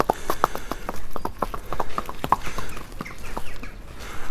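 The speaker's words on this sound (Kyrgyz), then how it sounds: "Аттын чуркаганын байкаңыздар" A horse runs on open ground, its hooves clip-clopping in a quick, steady rhythm of sharp, fairly close strikes throughout.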